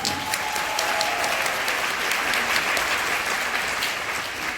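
An audience at a leadership talk breaks into sustained applause, many hands clapping steadily and evenly for several seconds, filling the hall without speech over it.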